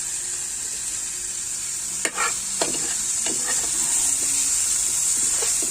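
Onion sautéed with tomatoes in a pan, giving a steady close sizzle broken by a few sharp stirring scrapes and clicks of the utensil.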